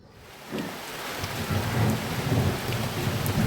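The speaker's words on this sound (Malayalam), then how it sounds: "സമയം ഉച്ചയായപ്പോഴേക്കും നല്ലൊരു അടിപൊളി മഴ പെയ്തിട്ടുണ്ടായിരുന്നു കേട്ടോ. വേനൽ മഴയായിരുന്നു." A summer thunderstorm at midday brings heavy rain pattering steadily on surfaces, while a low thunder rumble swells and grows louder over a few seconds, with no voices present.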